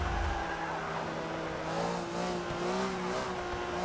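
An upgraded R-class car in the Forza 6 racing game drones with a continuous engine note while its tires squeal and skid through a turn, the screech swelling and wavering over the steady motor.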